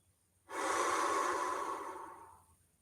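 A single long, slow exhale during a guided meditation, a soft breathy rush that starts abruptly and fades gradually over about two seconds in a quiet room.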